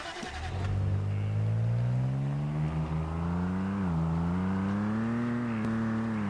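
A car in the video game Once Human accelerates, its engine tone climbing steadily in pitch into a sustained buzzing rev, close and loud throughout.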